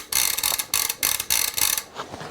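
A bicycle wheel spun by hand during winter cleaning, its freehub ratcheting in a rapid clicking buzz that pulses in several bursts as the wheel turns, close and alone.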